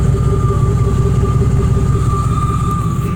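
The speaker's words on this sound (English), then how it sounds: "The exhaust, that's the exhaust of the truck." A 1995 Chevrolet Silverado Z71 pickup idles at its exhaust with a steady, loud, low rumble and an even throb, with no voices.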